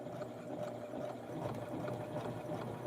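Sewing machine stitching close to the edge of fabric for a retro western-style doll blouse, a steady low whirring hum running continuously throughout with no voices.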